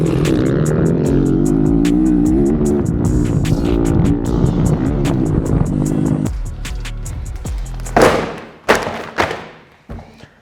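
A 250 dirt bike engine revs up and down through the gears, its pitch climbing and dropping for several seconds before cutting out, followed by a few heavy thuds.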